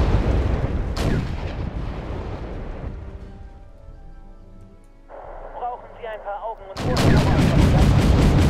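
Tank guns firing in the Wargame: European Escalation battle, aimed at a T-34, with heavy booming blasts near the start and again at the end and quieter rumbling and mechanical noise between.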